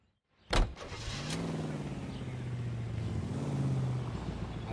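Studebaker car in the video game LA Noire starting with a sharp click, then a steady low engine drone that swells slightly as it drives off, no talk.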